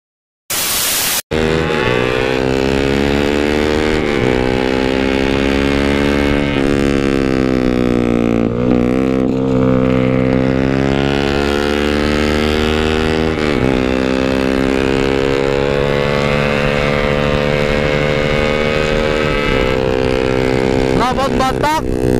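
Yamaha RX King 135 motorcycle fitted with a Knalpot Batak exhaust, a loud, continuous two-stroke engine roar with rising and falling revs, close and steady throughout with no talk over it.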